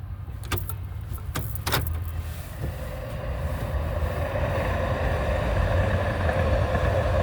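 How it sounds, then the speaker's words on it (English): A low rumbling rolls in and builds steadily, with a few sharp clanks early on, as a Blue Line train passes close by. "It's a train, y'all. It's a train."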